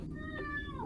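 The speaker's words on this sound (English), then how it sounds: "That is my cat, yes." A pet cat gives a single drawn-out meow, close and clear above a low background hum.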